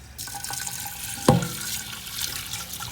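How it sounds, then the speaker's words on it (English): Water runs from a faucet into a bowl holding about a cup of rice as it is washed, a steady close splashing with one brief louder splash midway and no talk. "I'm gonna toss it right here in this bowl, and I will wash it"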